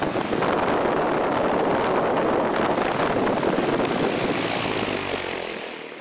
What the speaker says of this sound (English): we bought some comfort in the realm of a 30-inch air circulator